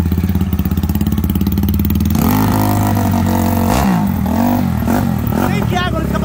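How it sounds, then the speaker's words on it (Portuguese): A motorcycle engine warms up, idling steadily at first and then running rougher with rising and falling revs, loud and close, with voices in the background. "Esperar a moto esquentar."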